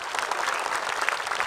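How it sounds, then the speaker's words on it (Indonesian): Audience applause for a speaker at an Islamic religious lecture, a steady dense wash of many hands clapping at moderate volume throughout, with no talk over it. "tepuk tangan buat Ustadz Syam."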